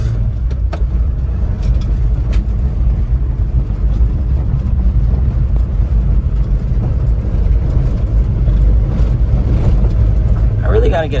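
Daihatsu Atrai kei van with a manual clutch and four-wheel drive being driven a short way, a steady loud low road and engine rumble the whole time with wind buffeting.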